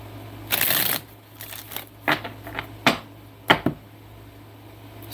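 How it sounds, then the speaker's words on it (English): A deck of tarot cards is shuffled close up in short riffles and brushy slides, five or six bursts spaced irregularly over a faint steady hum, with no talking. "One more shuffle."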